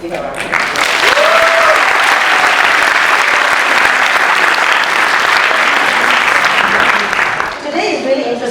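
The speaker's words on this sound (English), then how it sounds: "please give a round of applause" Loud, sustained applause from a large crowd at a finale event, steady clapping for several seconds before it fades out near the end.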